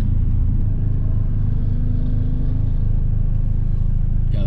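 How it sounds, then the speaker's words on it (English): Deep, rumbling V8 engine of a Hemi car passing by, heavy low-end burble holding steady and loud throughout, with no voices. "I think that was like a Hemi or something."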